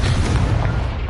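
A Confringo spell blast in Hogwarts Legacy, one loud, close booming burst with a rumbling low tail, alone without talk.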